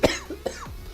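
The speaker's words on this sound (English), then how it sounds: "Sorry for the cough." Two short, close coughs from a man, a sharp one at the start and a softer one midway, otherwise quiet.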